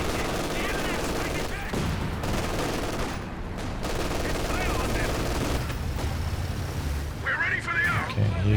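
Heavy gunfire from the Command Panther tank in Company of Heroes 2, booming shots and bursts layered over dense battlefield noise with steady rumble throughout a 2v2 match.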